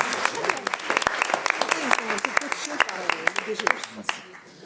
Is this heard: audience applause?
yes